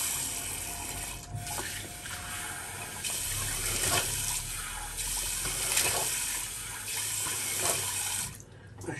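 A tap runs fresh water into a sink during a shave, a steady close splashing flow with brief interruptions and shifts in the stream, no one speaking.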